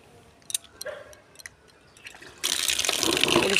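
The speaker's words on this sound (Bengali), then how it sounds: "ভালো করে ধুয়ে নেব ফুলগুলোকে" Water pours steadily onto freshly picked rose petals being rinsed, a sudden continuous splashing rush after a few scattered small knocks and drips, close and fairly loud.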